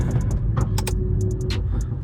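A BMW N55 on flex fuel under a hard pull, with a loud steady engine and road roar and several short crackling exhaust pops scattered through it, close and continuous.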